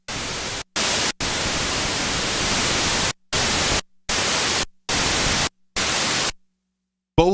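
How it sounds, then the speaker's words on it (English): Bursts of broadband hiss from the white noise generators of an 80s Korg DW-8000 and Roland Alpha Juno 2 synthesizer, switching on and off in steady blocks of several seconds with brief silent gaps, loud and alone. "Both of the white noise generators on these synths, this one would be digital, this one I believe is analog"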